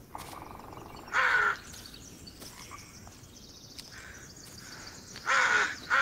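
Ravens cawing in the forest of Blair Witch VR: two loud harsh caws spaced several seconds apart, with fainter distant calls and soft ambient rustling in between.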